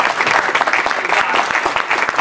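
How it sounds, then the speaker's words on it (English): A room full of attendees at a transportation forum breaks into a short burst of applause, dense overlapping claps, fairly close, with no talk over it. "Dorothy Kennedy really deserves a round of applause for pulling this whole event together"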